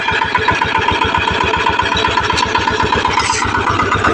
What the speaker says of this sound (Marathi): मी स्वतःने चालवला आता ट्रॅक्टर